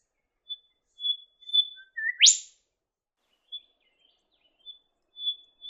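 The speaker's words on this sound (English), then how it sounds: "you might be lucky enough to see crested Shrike-Tit hunting for grubs in the bark of trees" A crested shrike-tit calls in eucalypt woodland: clear, thin whistled notes repeated at intervals, with one quick rising sweep, all of it bright and distinct against near silence.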